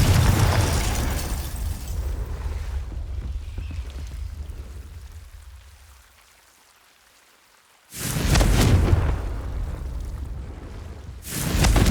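In the Hogwarts Legacy video game, Confringo spells set off explosions, heard as a loud crackling, rumbling roar that fades to near silence before two more sudden blasts burst in.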